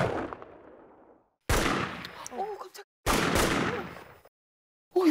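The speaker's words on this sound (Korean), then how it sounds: "이거 총소리 아니에요?" Three sharp, loud gunshots ring out at night in a rural village, each followed by a decaying echo, with brief shouting voices between the reports.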